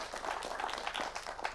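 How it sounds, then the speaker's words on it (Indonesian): Audience applause at an Indonesian religious talk, rising for a woman being honored: a steady, fairly faint wash of many hands clapping, continuous and even throughout with no talk over it. "Tepuk tangan buat Ibu Kadar ya"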